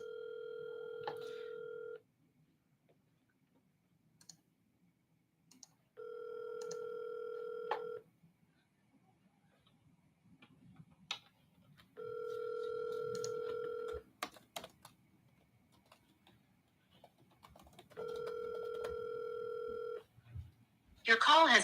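Phone ringback tone for an outgoing call that goes unanswered, four evenly spaced two-second rings with silence between, followed at the end by the start of an automated voice.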